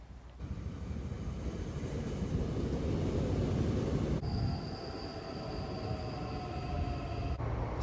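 Train interior on a Korean line back to Gapyeong station with riders' bicycles aboard: a steady rumble of wheels and carriage, with a high whine and squeal of wheels rising midway and continuing, no talk.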